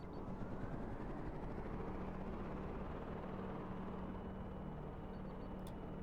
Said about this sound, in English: All right, heli, take off.